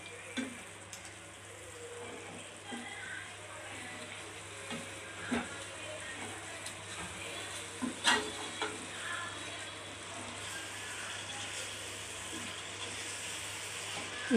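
Garlic chilli chicken being stirred with masala in a pan, a faint continuous sizzle with occasional soft scrapes and clinks of the spatula.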